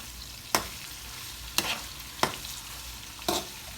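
Ackee and saltfish cooking in a pan, with four spaced spoon scrapes and clanks over a low steady sizzle and no talk.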